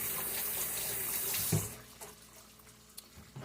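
A kitchen tap runs as a tomato is rinsed under it, a soft steady stream that quiets after a splashy moment, leaving faint drips and small knocks.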